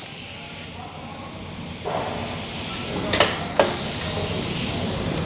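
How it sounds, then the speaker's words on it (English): An air chuck hisses bursts of pressurized air into a Mopar Fabric Protector spray container, a steady hiss with two brief sharper spurts near the end. "we will pressurize the container with an air chuck"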